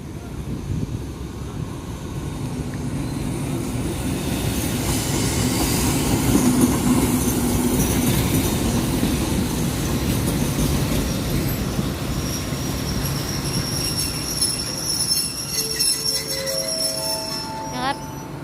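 A Thai ordinary passenger train hauled by a Hitachi locomotive rolls through Photharam station with a loud, steady rumble of wheels on rails, squealing wheel tones rising toward the end, while someone speaks over it.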